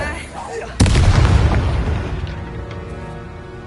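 A Bombarda spell in Hogwarts Legacy goes off as one sudden, loud boom. The blast rumbles on and slowly fades over the next few seconds.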